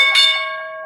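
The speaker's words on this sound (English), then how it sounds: "The bell just went off. The market is officially closed." A market closing bell is struck once, ringing loud and clear with a bright metallic tone that slowly decays, and nothing else is heard.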